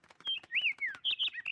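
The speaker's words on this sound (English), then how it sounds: "That is a sparrow." A cartoon sparrow chirps in a quick series of bright, high tweets and short warbling whistles, close and lively, over a soft rhythmic background patter.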